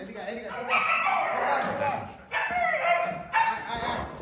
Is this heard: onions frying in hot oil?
no